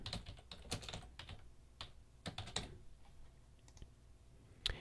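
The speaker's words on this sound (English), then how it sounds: "click create new app and then uh, type whatever seems fit" Sparse, crisp keystrokes and clicks on a computer keyboard, coming in short irregular bursts with brief pauses between them, close up and fairly quiet.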